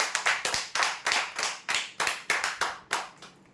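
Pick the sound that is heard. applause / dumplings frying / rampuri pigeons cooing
applause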